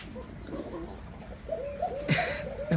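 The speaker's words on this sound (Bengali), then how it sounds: "এখানে দেখতে পাচ্ছেন একদম ইটালিয়ান আউল কবুতর" An Italian owl pigeon coos in a pigeon market setting, a short series of soft rolling coos that grow a little louder, close but quiet under a faint background hum, with a brief knock near the end.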